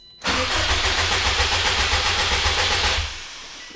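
A Subaru STI engine with a new battery cranks and catches, then roars steadily for a few seconds before cutting out abruptly, loud and close.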